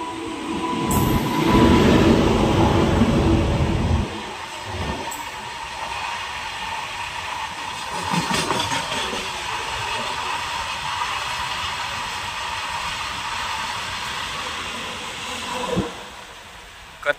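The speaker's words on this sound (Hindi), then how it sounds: "रेल का पटरी में साउंड आ रहा है," A train rumbles past on the rails, loud at first, then a steady rolling clatter with occasional metallic squeals and clicks.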